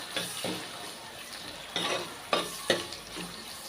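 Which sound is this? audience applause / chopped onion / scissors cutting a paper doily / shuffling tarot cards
chopped onion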